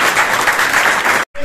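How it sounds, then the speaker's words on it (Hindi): Audience applause fills a seminar hall, dense and steady for over a second before cutting off abruptly into a brief silence and a faint resumption. "एक बार अपने लिए ताली बजा लें"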